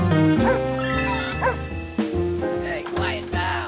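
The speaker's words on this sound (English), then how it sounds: "The dog barked louder" A dog barks and yips in a children's rainy-day story, a few short, pitched barks and whimpers coming close and loud in quick succession.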